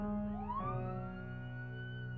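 A police and ambulance siren effect sweeps upward in a rising wail, then holds a steady, clear tone alone.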